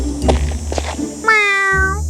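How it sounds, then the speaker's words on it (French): A cat meows softly: one clear, drawn-out mew of about half a second rises out of a low background hum, after earlier brief murmurs. "le chat miaula doucement"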